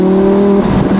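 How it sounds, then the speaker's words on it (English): A 2017 Audi R8 V10 Plus with an 850 hp twin-turbo package revs loud and close, a steady droning engine tone holding briefly before shifting into a rougher, fluttering turbo-spool sound. "you add the turbo sounds to it. Watch, let me get a little spool up going here."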